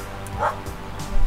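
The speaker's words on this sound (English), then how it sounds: "And there goes my mad dog chasing birds again." A dog outdoors chasing birds in hot weather lets out a brief yelping bark, followed by faint whimpering yips at a moderate distance.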